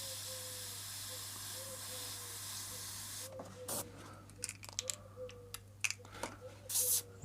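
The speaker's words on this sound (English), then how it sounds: "If you're refilling your brush, just double check to the side. Give it a spray." An airbrush sprays paint in a long steady hiss for about three seconds, followed by shorter bursts and clicks of the brush in use, close and fairly quiet with a low hum underneath.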